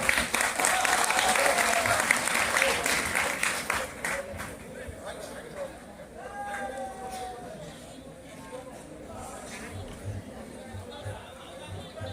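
An audience at a felicitation event for artists breaks into loud sustained applause that slowly fades, with crowd chatter and an amplified voice over the clapping.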